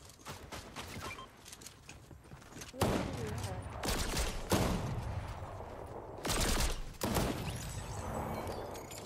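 Sustained turret gunfire in a first-person shooter game, dense overlapping bursts with sharp loud blasts recurring throughout, a busy battle din with faint voices.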